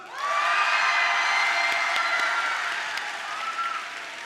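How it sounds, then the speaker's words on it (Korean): Sustained applause and cheering from a large crowd at a church summer camp gathering, loud and continuous with scattered whoops and shouts, easing slightly toward the end. "박수 함성 시작"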